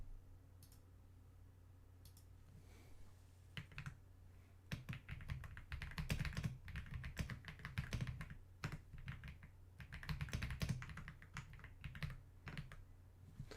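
Steady clattering of keys typing on a computer keyboard, a quiet start building into busy bursts of keystrokes, close and alone against a low background hum.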